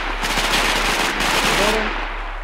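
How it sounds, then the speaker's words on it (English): Sustained machine-gun fire in a WWII video game battle near a trench, a loud, dense, rapid burst of automatic shots close by that fades slightly toward the end. "Suppress fire or bomb pushes out the trench."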